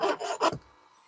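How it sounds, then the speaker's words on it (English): A hand saw rasps through a small metal lock pin in two or three quick close strokes, then the sound falls away into quiet. "The tone will change as you're sawing"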